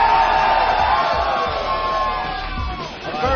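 A live bar audience at Bill's Bar in Boston cheers and whoops loudly, a dense roar of shouting voices that slowly tapers off.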